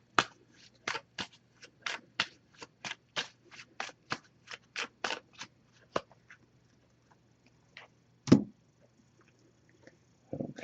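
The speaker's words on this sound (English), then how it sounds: "I'm just going to give this a few shuffles." Oracle cards being shuffled by hand, a quick series of crisp, close riffling snaps in an irregular rhythm, followed by a pause and a single louder slap of the deck, with no talking.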